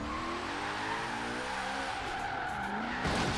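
Car drifting in Forza Horizon 3, a steady loud engine drone with rising and falling tire squeal, then a sharper burst near the end.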